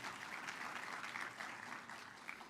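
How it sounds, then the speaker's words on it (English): A crowd in an audience gives sustained applause, dense and even throughout, heard quietly from a distance with no talking over it. "I got more than one clap, so that was good."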